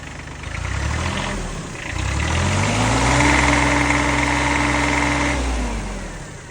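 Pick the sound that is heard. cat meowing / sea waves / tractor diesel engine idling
tractor diesel engine idling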